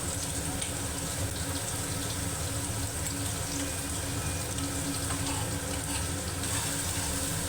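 Spice paste with turmeric and salt being sautéed in a pan, giving a steady, dense sizzle with a hissing, watery texture that stays even throughout.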